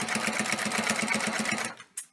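A sewing machine stitching a back stitch on a circle pouch, its needle chattering in a fast even rhythm for well over a second, close and loud, then stopping abruptly with a short click.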